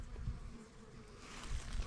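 Honey bees buzz around their hives outdoors, a soft continuous drone with faint wind and rustling in the background.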